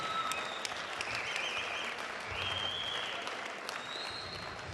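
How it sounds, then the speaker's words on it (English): Sustained crowd applause for two boxers at the end of a five-round fight, a dense steady roar of clapping filling the arena with a few whistles cutting through. "big round of applause to both fighters for a fantastic contest."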